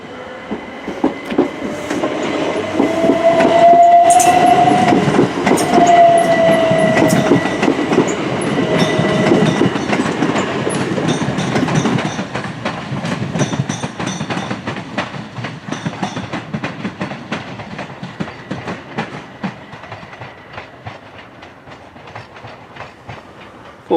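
A Class 377 electric multiple unit passes through Barnham station, a loud steady rumble with rhythmic clickety-clack of wheels over rail joints and a brief squeal early on, fading gradually as the train moves away.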